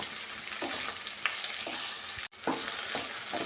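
Green chillies for tomato chutney sizzle steadily in a hot pan, with a few soft stirring scrapes and a brief pause partway through.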